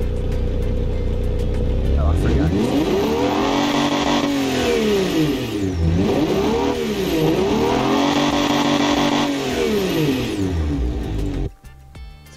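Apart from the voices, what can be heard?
custom car engine revving in video game BeamNG.drive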